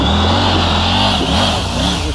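A motorbike engine revs loudly and steadily up close, its droning tone rising and falling slightly with throttle over a constant rumble.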